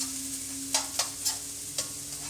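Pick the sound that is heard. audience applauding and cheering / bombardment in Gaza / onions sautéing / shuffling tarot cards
onions sautéing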